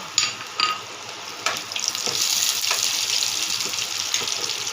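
Cashews and raisins hit hot oil, a few sharp drops followed by a rising, steady sizzle that stays loud and continuous, with occasional light stirring clinks.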